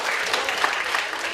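Applause from a crowd at a music show, a thick, steady wash of many clapping hands close by, continuing evenly through a brief moment with no talk.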